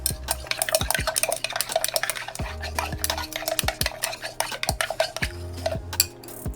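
Mixing a DIY lavender facial mist with mango fruit extract, a utensil clinking repeatedly against a container in quick irregular taps, close and clear over a low background hum.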